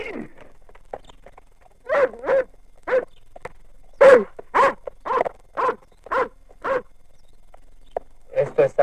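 A dog barks repeatedly in a hot rural setting, a series of sharp, evenly spaced barks starting after a quiet pause and trailing into a short final burst, fairly close and clear.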